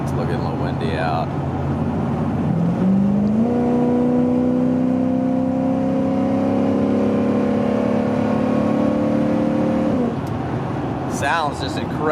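An Indy 500 pace truck with a 5.9 engine revs up, its pitch climbing and holding steady for several seconds before dropping off, loud and close, with outdoor background noise and brief talk at the start and end.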